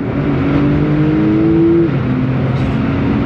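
A 750-horsepower Porsche accelerates hard on an open road, its loud engine note climbing steadily in pitch before a brief dip as it shifts, then continuing to pull at close range.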